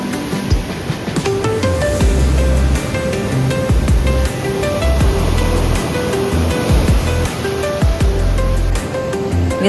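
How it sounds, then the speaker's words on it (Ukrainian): Sea waves wash against a rocky beach below cliffs at Sanzhiika, a steady, close roar of surf and spray that swells and recedes without any voices. "Хвилі ці, які підсвічуються сонцем."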